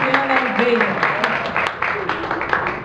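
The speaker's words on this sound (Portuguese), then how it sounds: "Uma salva de palmas para a Luciana Oliveira." Audience applause at a cinema award ceremony, steady crowd clapping with voices talking over it throughout.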